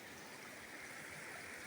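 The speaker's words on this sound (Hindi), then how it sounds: "वहूर का झरना है गाइज ये।" Water from the Vahoor waterfall pours in a constant, faint hiss, steady and unbroken throughout, with no one speaking.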